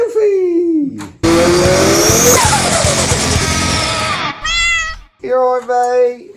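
Cat meowing loudly and close in a workshop where a scrap-built MG GT rally car is being made, several drawn-out meows with a long harsh screech between them.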